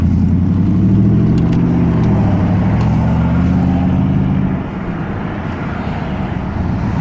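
Car launching from drive with wheels spinning against a supercharged Ford F150: a loud, close engine roar with pitch rising and wavering for several seconds, then settling lower, with no talk over it.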